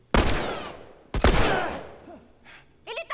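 Gunfire in The Last of Us rings out as two loud, close shots with long decaying echoes about a second apart, followed by fainter, sharper bursts near the end.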